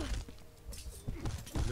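Cyclops units in Age of Mythology smash a gate, several heavy crunching thuds and shattering impacts landing in irregular bursts, with a voice talking faintly in between.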